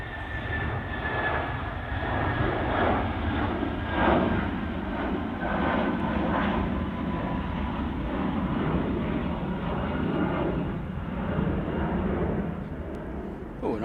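A jet airliner departs Manchester Airport bound for London Heathrow, its engines a steady, loud broadband roar that holds level throughout with no talk over it.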